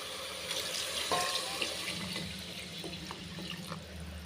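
Water pours steadily into a cooking pot for mushroom biryani, a soft continuous splashing that stays fairly quiet throughout.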